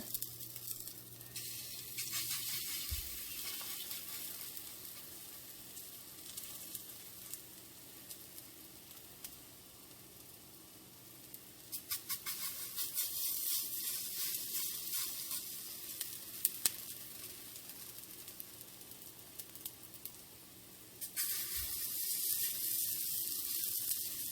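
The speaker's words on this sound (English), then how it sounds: "I'm going to fry these off in just a little bit of oil" Zucchini fritters frying in a small amount of oil, a steady close sizzle that swells louder in bursts as fritters are added, with no talking.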